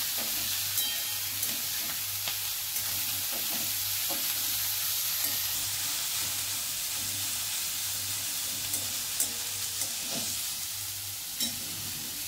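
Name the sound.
fenugreek leaves frying in hot oil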